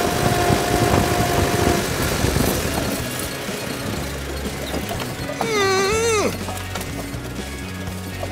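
A 1929 Dennis G-type fire engine's engine idles with a low, steady rumble, joined midway by a rising and falling whine as the throttle is opened.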